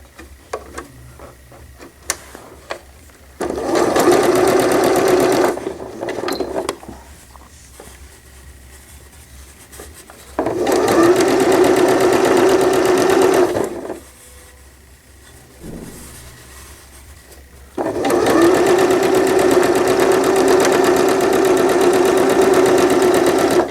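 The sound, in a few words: sewing machine hemming a newborn gown sleeve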